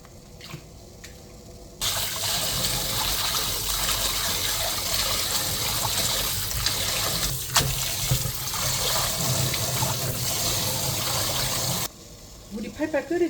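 Tender dureup shoots go into a pot of rolling boiling water for blanching, a loud steady rush of bubbling and splashing lasting about ten seconds before cutting off to quieter handling noise.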